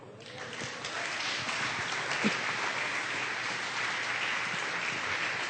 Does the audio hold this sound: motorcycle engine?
no